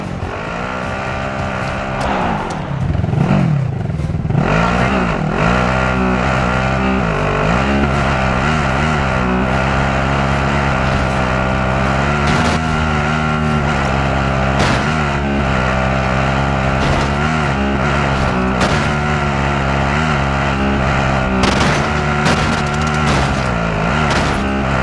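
A vehicle driven in Call of Duty Warzone, its engine roaring loud and close with a sustained drone that rises and falls as it revs and shifts, running unbroken with occasional sharp bumps.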